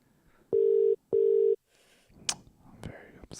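A phone call that goes unanswered: two long, steady ring tones sound close and loud, followed by a few faint clicks and some rustling.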